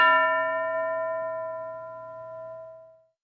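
A single bell struck once in a classroom setting, ringing out with a bright, sustained metallic tone that slowly fades over about three seconds, heard alone without talk.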